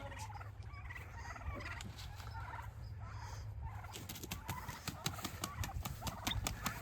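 Live turkeys on a homestead before Thanksgiving butchering, gobbling and clucking in repeated bursts at moderate distance over rustling and a low hum, with busier, sharper sounds toward the end.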